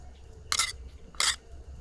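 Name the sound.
spoon spreading spiced prawns in a bowl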